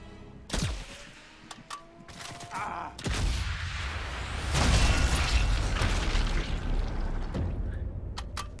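Gunshots and booms in the World War II shooter Sniper Elite 5, with a sharp crack early on, further reports, and a sustained rumbling blast before a long noisy tail under game ambience.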